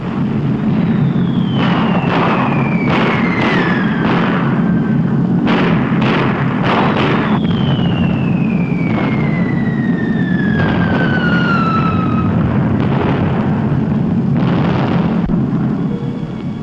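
Bombs dropped in a WWII B-17 raid over Germany whistle down in long falling tones over a constant loud rumble, with repeated heavy blasts bursting throughout.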